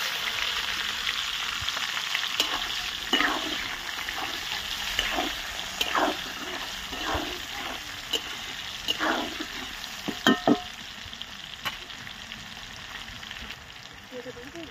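Chopped onion sizzling in hot oil in a pan with dried red chilli and bay leaf, a steady fry hiss broken by repeated scraping stirs and a few clinks of the spatula, no talking.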